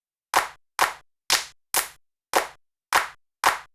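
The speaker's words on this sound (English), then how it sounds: "That's a very slimy sounding clap." Seven waveshaped electronic clap samples with a slimy mid-range, each a sharp isolated hit with short decay, played at an uneven rhythm over silence.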